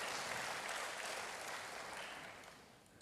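A church congregation applauds together in sustained, fairly quiet clapping that fades gradually, with no voices over it.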